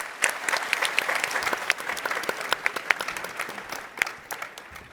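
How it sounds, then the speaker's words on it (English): Audience applause at a startup pitch competition session, a dense spatter of many hands clapping with sharp individual claps standing out, steady and moderately near throughout. "Give them a round of applause, folks."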